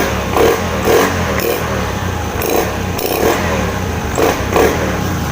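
A Honda Beat ESP scooter engine, previously stuttering from an ECU fault, idles loudly close by and is revved repeatedly in short bursts, the roar rising and falling several times.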